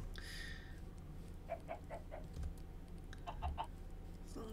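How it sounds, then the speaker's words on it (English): Chickens in the Minecraft video game give a few short clucks in two small bursts, faint over a steady background hum. "There's a chicken."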